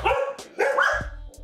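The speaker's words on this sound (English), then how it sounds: "I don't know what they're barking at" Dogs indoors bark in two quick bursts, close and fairly loud, with low thumping noise underneath and a brief high yip between them.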